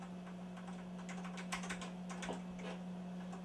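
Keys clatter in an irregular run on a Silicon Graphics Personal Iris 4D/20 workstation keyboard, close and crisp over a steady electrical hum, with no voices.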